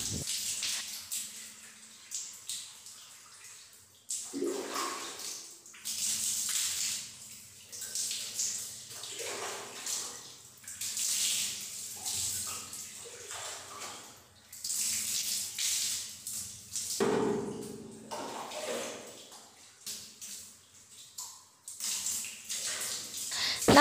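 Water poured low over hair and scalp during a hair wash, arriving in repeated splashing gushes that rise and fade over a steady wet background, with a voice faintly present at times.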